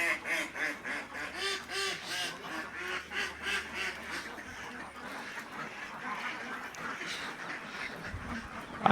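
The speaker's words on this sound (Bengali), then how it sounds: "এই দেখেন পুকুরের মধ্যে হাঁস কিভাবে রাখা হয়েছে, কিংবা কিভাবে হাঁস চড়ে বেড়াচ্ছে দেখেন।" Ducks quack in repeated, rhythmic bursts on a duck farm pond at a large park in Barisal, a busy flock close by and fairly loud throughout, with a faint voice briefly present underneath.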